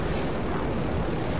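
Fixed-wing aircraft taking off in GTA V Online, a steady loud engine and propeller roar filling the whole stretch without pause, close and continuous, no talking over it.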